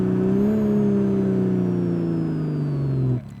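A Porsche 986 Boxster fitted with a Fabspeed Supercup exhaust drones steadily under acceleration, loud and close from inside the car, its tone sliding slightly in pitch before cutting off abruptly near the end.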